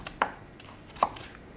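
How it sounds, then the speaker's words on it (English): A knife roughly chopping an apple on a cutting board, a couple of sharp close knocks among faint lighter taps, quiet room, no voices. "just rough chopping because everything is going to get blended up"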